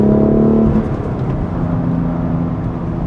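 A BMW M2's engine is revved under throttle, a loud low engine hum that eases off after a short surge and then holds a steady whirring drone, heard from inside the car.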